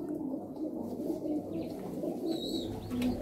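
Mantolu pigeons in a loft coo softly and continuously, a low murmuring drone with faint higher chirps, heard quietly and close with no talking.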